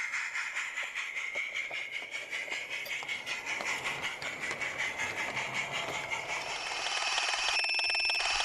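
A miniature railway goods train departs a station, rolling steadily with rapid rhythmic clicking of wheels over rail joints, a continuous mechanical rattle and a faint high whine throughout.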